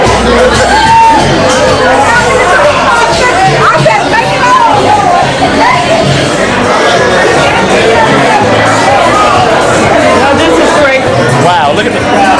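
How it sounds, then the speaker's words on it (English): Dense crowd chatter fills a pop culture museum charity event, a loud steady babble of many overlapping voices, close and continuous, with nearby people talking over it. "Wow, look at the crowd."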